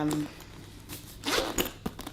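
A zipper on a black shoulder bag is pulled in quick, rasping strokes close up, with some rustling of the bag.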